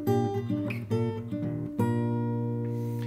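Short guitar run closing a section of a song, a quick series of plucked notes followed by a sustained ringing chord at moderate volume, no voices.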